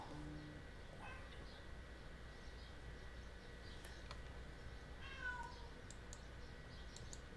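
An indoor cat meows to be let outside, a few faint, drawn-out meows heard at a distance over a constant low background hum.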